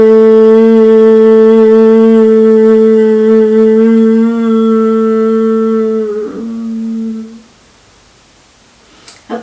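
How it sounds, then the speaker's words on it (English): A person hums a long, steady, resonant tone while exhaling during a throat-chakra yoga flow. The hum is loud and close and holds for about six seconds, then fades as the breath runs out, with a soft inhale at the end. "as we breathe in, we'll prepare ourselves for humming on the exhale."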